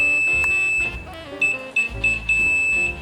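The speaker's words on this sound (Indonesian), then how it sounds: "maka buzzer akan bunyi" A small electronic buzzer wired to a NodeMCU ESP8266 board, triggered by a button press, sounds in short, high-pitched tonal beeps, repeating unevenly with brief gaps, close and clear.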